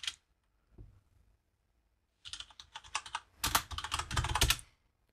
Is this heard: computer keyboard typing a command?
yes